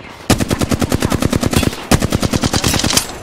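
Rapid automatic gunfire in a multiplayer shooter video game, a loud close burst of fast evenly spaced shots, briefly broken and then resuming.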